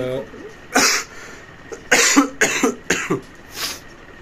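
Several harsh coughs, a single one and then a quick run of three or four, close to the listener and loud against a quiet background.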